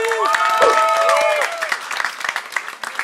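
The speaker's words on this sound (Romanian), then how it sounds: "Și Titania, niște aplauze, vă rog" A burst of audience applause at a roast battle comedy show, with scattered claps that continue and thin out, while voices ring out over the start.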